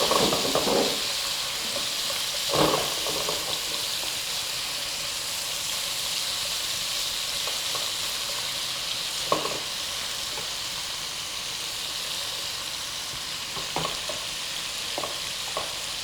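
Korean spicy pork fries in a flat wok with a steady, even sizzle, close and constant, broken only by a few brief scrape or stir knocks, without any talking.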